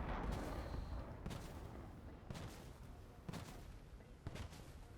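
Rockets launch from an aircraft in the video game War Thunder, with a run of booming blasts arriving roughly once a second over a steady roaring background.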